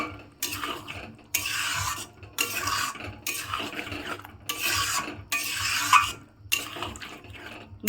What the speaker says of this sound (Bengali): ভালো করে মিশিয়ে নিতে হবে মশলার সঙ্গে।